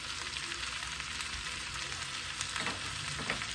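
Chicken gizzards fry in a pan with gizzard seasoning, a steady close sizzle running throughout with occasional stirring scrapes toward the end.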